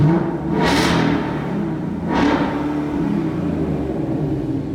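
Two loud revs of a 2019 Ford Mustang GT exhaust, each a sharp rising roar about a second apart, over a steady idling rumble with no talking.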